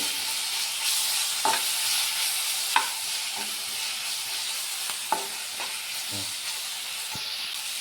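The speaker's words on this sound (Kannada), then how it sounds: "ಈಗ ಶುಂಠಿ ಬೆಳ್ಳುಳ್ಳಿ ಪೇಸ್ಟ್ ಎಲ್ಲ ನೀಟಾಗಿ ಫ್ರೈ ಆಗಿದೆ" Ginger garlic paste frying with onions in a pan for mutton fry, a continuous hissing sizzle broken by several sharp spoon scrapes and taps as it is stirred.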